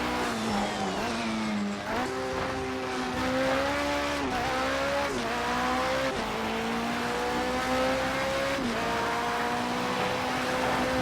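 Porsche race car on the Nürburgring Nordschleife, a loud close engine note rising and falling steadily through gear changes, with tires squealing in the corners and no talking.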